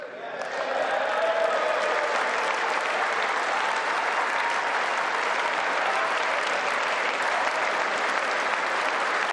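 Sustained audience applause fills a large chamber during a State of the Union address, a dense, even roar of clapping that holds steady at full strength from start to finish without pause.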